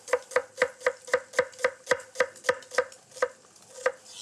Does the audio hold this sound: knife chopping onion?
yes